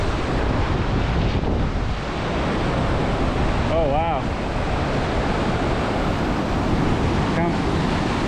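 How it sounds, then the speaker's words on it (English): Muskeg Creek Falls roars with a steady, loud broadband rush of falling water, close and continuous, with a brief voice speaking over it. "We made it to Muskeg Creek Falls."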